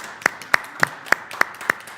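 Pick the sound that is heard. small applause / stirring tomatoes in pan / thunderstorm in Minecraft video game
small applause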